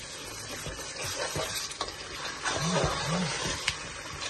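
A spoon stirs lamb bhuna in a pot, scraping and mixing through a thick sauce over a steady sizzle of frying, heard close, with a few brief sounds that may be voice in the background.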